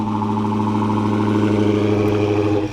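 A Dodge Charger SRT Hellcat Widebody idles after a remote start, its engine a steady, loud, deep rumble held close by, ending with a slight drop at the end.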